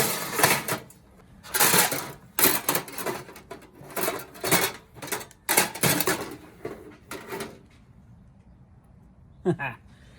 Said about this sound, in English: Let's throw our general steel in here.